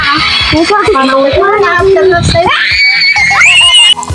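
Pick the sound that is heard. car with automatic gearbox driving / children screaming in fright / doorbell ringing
children screaming in fright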